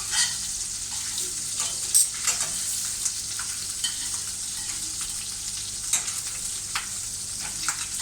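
Food frying in butter in a pan, with a continuous bright sizzle and occasional soft stirring scrapes, close and steady, with no talk over it.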